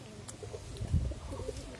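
Pigeons, including local breeds, coo softly in a few low rolling calls, fairly faint and close, with light rustling around them.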